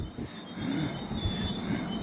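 A train rumbles into a platform at Stafford station with a steady high-pitched wheel squeal over low rolling noise, fairly close and continuous.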